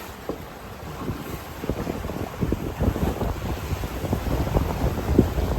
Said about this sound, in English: You can probably tell at the moment we are motor sailing at the moment.